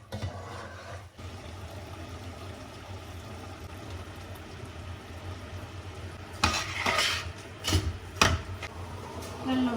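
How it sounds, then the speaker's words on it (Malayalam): Chicken being stirred in a pot while cooking Thalassery dum biryani, with a steady low kitchen hum and a few louder scraping, clattering bursts toward the end. "ഇത് നമുക്ക് ചിക്കൻ ഒന്ന് ഇളക്കിയെടുക്കാം."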